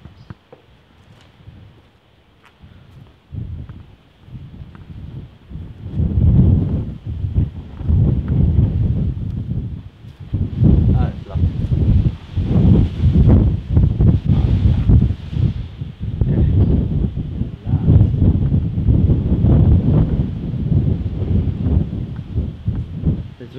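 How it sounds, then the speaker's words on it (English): Strong wind gusts buffet the microphone outdoors at an abandoned horse race course, a low roaring rumble that rises and falls in loud surges with no voices. "The wind's actually quite terrible, eh?"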